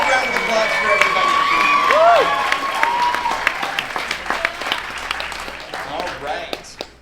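An audience at a horror convention panel applauds and cheers, a dense wash of clapping with shouts and whoops that thins into scattered claps as it fades over about seven seconds.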